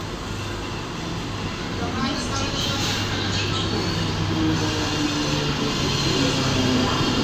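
A train arriving at a station rumbles steadily nearby, a continuous low drone with a faint hiss above, as people speak over it throughout.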